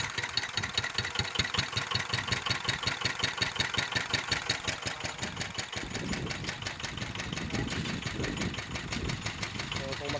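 A Yanmar F5C diesel engine runs close by with a steady, rapid knocking chug that shifts slightly in pace as the throttle is moved up and down.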